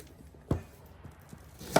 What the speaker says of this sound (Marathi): हे बघा, असं चिरून घ्यायचं आहे.